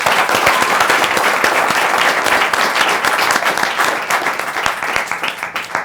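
An audience bursts into dense, sustained applause for the director, the clapping loud at first and thinning into scattered claps toward the end.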